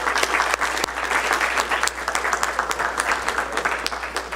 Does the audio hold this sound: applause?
yes